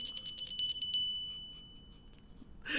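A bright brass hand bell, a maid-calling type, rings in a quick run of rapid strikes, then its high tone lingers and slowly fades before a brief rustle at the end.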